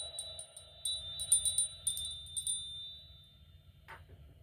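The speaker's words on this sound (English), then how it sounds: "Ring a little bell." A small bell rings quietly in a series of light, rapid tinkling strikes, fairly close but faint, then fades out; a low electrical hum runs underneath.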